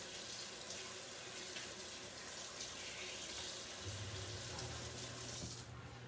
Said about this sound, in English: let me rinse it too because it has ice cream on it.